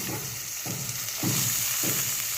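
Green chilies frying in a pan of hot oil with asafoetida for chutney, a steady close sizzle with three bursts of crackling as the chilies are stirred, no voices.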